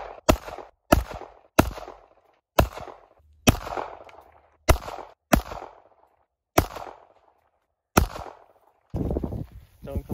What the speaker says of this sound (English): I'll just shoot the 45. 10 shots to make history.